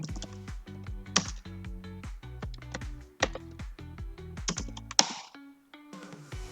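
Fingers tap a computer keyboard to enter a command during a computer-networking lab exercise, a quick irregular patter of close, crisp key clicks with a few harder strokes, then a brief pause near the end.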